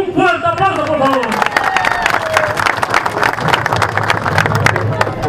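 Crowd applauding at a PLD campaign rally in La Descubierta: a voice speaks briefly, then dense, lively clapping from many people swells and carries on for several seconds, with some cheering and murmur mixed in.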